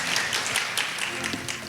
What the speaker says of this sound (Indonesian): Berikan tepuk tangan untuk tim Praise and Worship.